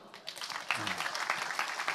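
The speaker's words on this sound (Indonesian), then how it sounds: "Saya kira beti tepuk tangan dulu dong" Audience applause at an Indonesian talk or seminar, a dense crowd patter that builds after a quiet start and holds steady, with a low voice briefly audible beneath it.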